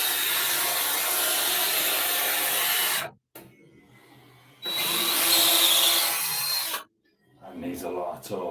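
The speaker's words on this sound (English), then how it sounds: "This is a great drill as well for getting into the hardest used areas." Power drill bores into wood while strengthening a boat's engine bearers, two loud sustained bursts separated by a near-silent pause, then a shorter rough run at the end.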